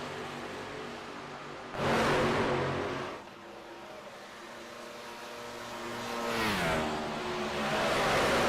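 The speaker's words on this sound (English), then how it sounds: "I've never heard one of these trucks sound like that before." A racing truck engine in the iRacing video game, droning steadily and then swelling twice into loud revving surges with sliding pitch, heard with no talking.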